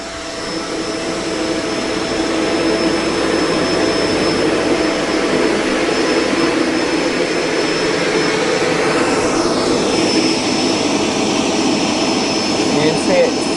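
A Kenmore Intuition bagged upright vacuum cleaner runs continuously and loudly, a steady roaring whine that holds at the same level throughout.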